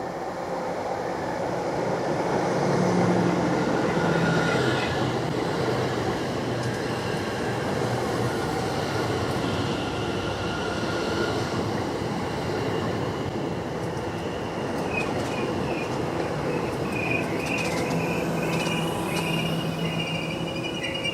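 A train on the line to Southend Victoria, Essex, rumbles steadily nearby, with a low continuous roar and occasional faint high squeals from the wheels, no talking.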